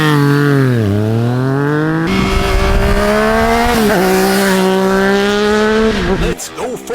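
A 2025 Yamaha YZF-R9 supersport motorcycle revs and pulls hard while riding, engine note rising and dipping through gear changes, loud and close, with a brief wind-buffeted drop near the end.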